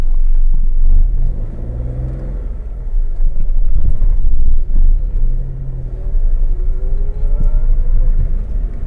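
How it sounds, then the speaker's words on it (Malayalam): A car engine rumbles low and loud as it pulls away, the clutch released while the throttle opens, with rising and falling engine tones across the stretch and no talk. "മെല്ലെ ക്ലച്ചിൽ കാലെടുത്ത് ആക്സിലേറ്റർ കൊടുക്കുക"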